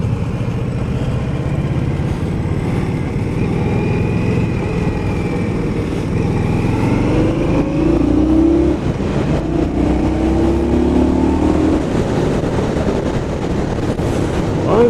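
An Indian Scout motorcycle accelerating on the road, engine drone rising in pitch with gear changes under steady wind noise, close and continuous throughout with no speech.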